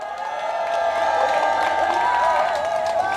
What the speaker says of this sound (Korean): 그분들을 힘내라고 박수 한번 보내주시기 바랍니다